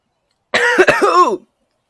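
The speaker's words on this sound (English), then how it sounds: "I just coughed up some coffee" One sharp, close cough from coughing up coffee bursts out loud and harsh, with a rough throaty edge, then silence.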